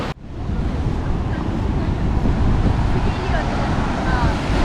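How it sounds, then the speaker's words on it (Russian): Düden waterfall near Antalya, Turkey, with the river running high: a loud, constant roar of rushing water and spray, heavy and unbroken, with wind buffeting the microphone throughout. "Туман прямо, ребята. Брызги и туман."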